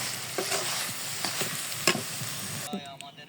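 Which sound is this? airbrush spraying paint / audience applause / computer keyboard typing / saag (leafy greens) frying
saag (leafy greens) frying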